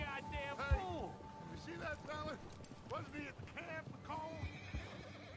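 Red Dead Redemption 2 horse neighing and whinnying repeatedly as it rears onto its hind legs, shrill wavering cries mixed with hoof clops, heard beneath a person talking.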